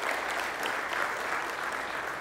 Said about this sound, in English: You give yourselves a round of applause.